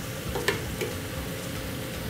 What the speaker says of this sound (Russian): Все, теперь сейчас оставлю, чтобы слегка поджарить.